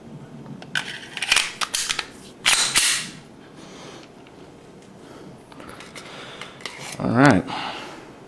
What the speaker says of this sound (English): You guys will witness me shooting this pistol for the first time.